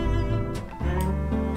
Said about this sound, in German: Das klingt so, eine Nachricht auf WhatsApp.